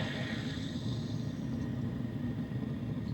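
A steady, loud whooshing rush of air from a diesel heater's fan blows continuously up close, with a low rumbling drone underneath, in a VW bus.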